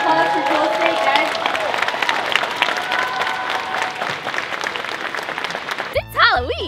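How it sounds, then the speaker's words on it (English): A convention panel audience at Comikaze 2014 breaks into loud, sustained applause for Jewel Staite, the clapping filling the room for several seconds before it fades and a voice speaks up. "Big round of applause for Jewel Staite, guys."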